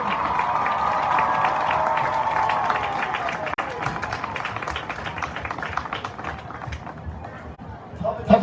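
A crowd at a high school homecoming football game claps and cheers for the 2022 homecoming court, a dense, steady wash of applause that slowly thins out toward the end.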